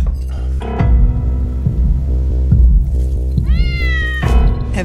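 A cat meows clearly over a dense music score, with a rising, wavering cry near the end and no talking.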